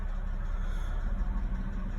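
A 2007 BMW 525xi engine idles steadily, a low even rumble close by with no talking.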